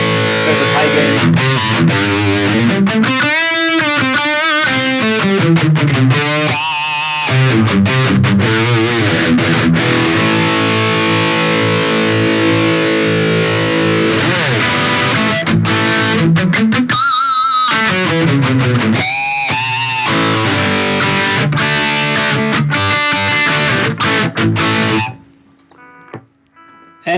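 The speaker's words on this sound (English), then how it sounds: "with the same amp, but a little bit more distortion, setting, favorite high gain" A high-gain electric guitar played through a Fractal FM9 amp preset, thick and heavily distorted with sustained chords and chugging riffs, loud and continuous for about 25 seconds before cutting off sharply.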